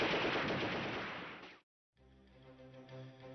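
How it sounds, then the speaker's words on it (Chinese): Dense gunfire and artillery from the 1948 battle for Jinzhou city, loud sustained crackling bursts that cut out abruptly, then return as a steadier, lower rumbling barrage. "唯有锦州城区的枪炮声依然浓密"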